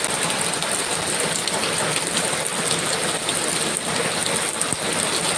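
Steady, heavy rain hisses continuously on surfaces all around, loud and close, with no voices.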